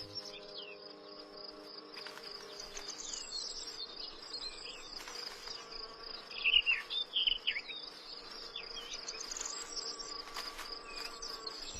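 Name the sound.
buzzing insects attracted to spring flowers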